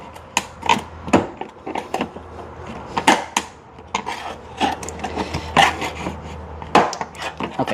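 A flathead screwdriver pries trim clips loose on a Hyundai Santa Fe during a floor storage replacement. Irregular scraping, knocking and plastic snapping sounds come close up in quick clusters, with no voices.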